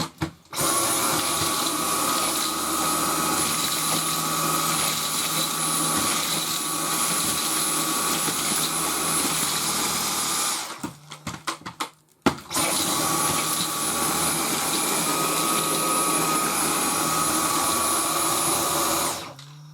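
A Dyson V10 Total Clean cordless vacuum cleaner sucks up larger debris particles with a loud, steady, close whine. It cuts out briefly partway through amid a few knocks and then runs again at full power.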